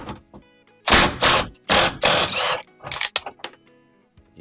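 A ratchet removing transmission crossmember bolts on a 1988 K5 Blazer with a 6.2L diesel, heard in loud, close bursts of rapid clicking separated by short pauses and a few lighter clicks.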